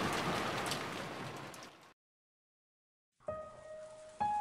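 Steady broadband rain ambience in the Umineko visual novel game, a dense, continuous hiss of falling rain that cuts out abruptly into silence before other game sounds with tonal notes resume.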